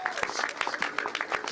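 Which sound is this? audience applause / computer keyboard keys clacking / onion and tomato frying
audience applause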